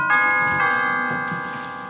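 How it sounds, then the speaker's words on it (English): Doorbell chiming twice in quick succession, clear ringing tones that linger and fade, heard alone at close range during a school stage play. "I'll ring the doorbell."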